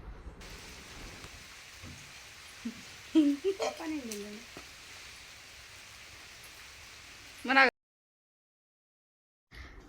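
Steady rain falls on a millet field, a constant hiss that runs under a short stretch of voices and a louder burst near the end, then cuts off.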